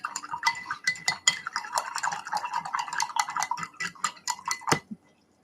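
Something being rinsed at a craft table, a brush or tool swished and knocked against a container: quick clinking and splashing taps in an irregular close run for about five seconds, then abruptly quiet.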